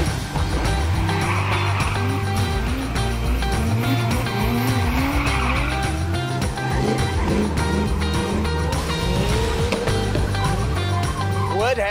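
Powerful Nissan drift cars such as S14s, S13s and 350Zs skid with long, loud tire squeals and roaring engines at a drift event in Cape Town, with a continuous dense mix of squeal and revving alongside talk.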